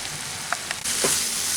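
Banana flower paste cooks in a pan over a low flame, making a steady, close frying hiss that swells slightly louder partway through, with faint stirring scrapes.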